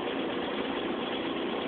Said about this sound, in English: I can hear that air compressor kick on from sucking air on the outside wall.